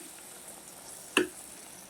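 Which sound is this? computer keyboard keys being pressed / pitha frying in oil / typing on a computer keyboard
pitha frying in oil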